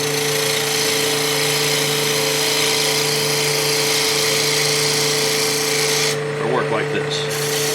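A bowl gouge fitted in a short handle cuts end grain while turning a wooden goblet on a lathe, giving a continuous loud rasping hum over the motor drone that briefly eases near the end as someone speaks.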